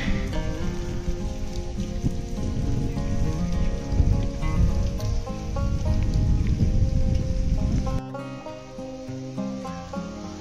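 Steady, dense rain falls at Bhaja Caves in Lonavala, a loud continuous hiss and patter that drops noticeably softer near the end.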